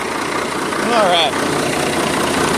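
A truck engine idles loudly with a steady, close rumble throughout, a short swell in the middle, and a faint voice briefly over it.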